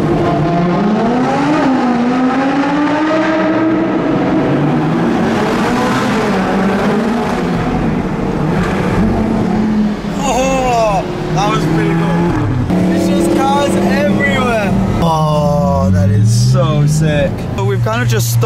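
A loud, roaring Apollo IE supercar engine revs hard with rising and falling pitch sweeps as tires spin, while a person talks excitedly over the noise.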